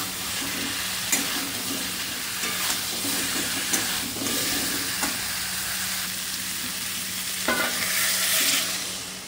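Fish sizzles loudly in hot oil in a pan, a continuous bright crackle with sharp spattering pops and scraping stir sounds scattered through, up close and without talk.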